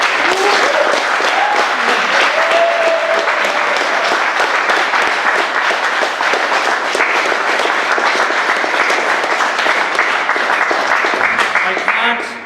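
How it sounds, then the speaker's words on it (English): Sustained applause from an audience honouring TENI, the Irish transgender equality group, at an event marking the passing of gender recognition legislation; dense steady clapping fills the whole stretch with crowd murmur beneath. "I think again a round of applause."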